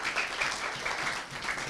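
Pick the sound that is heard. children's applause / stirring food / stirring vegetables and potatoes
children's applause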